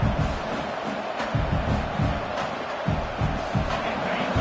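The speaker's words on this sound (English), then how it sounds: "Listen to the crowd energy here in the early going." A large stadium crowd roars in a continuous, distant wash of noise, swelling in bursts of cheering.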